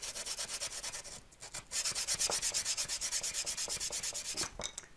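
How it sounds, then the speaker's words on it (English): A sanding block rubs back and forth over the edges of model church walls in quick, steady strokes, a dry scratchy rasp with a brief pause partway through. "pick yourself a little sanding block up and just go over it"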